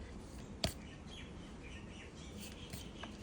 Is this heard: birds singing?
yes